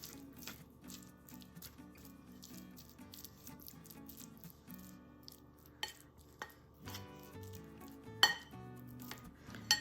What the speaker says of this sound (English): Stir it up a little bit to make sure you get it incorporated throughout the grains.